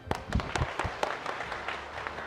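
Scattered applause and clapping from an audience at a taxpayer rights forum, coming in uneven bursts that stay fairly quiet and thin.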